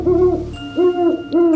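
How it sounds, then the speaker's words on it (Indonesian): A buak bird calls at night with three repeated hooting notes, each a swelling, owl-like tone, loud and close with short gaps between. "Suara burung buak terdengar semakin mendekat"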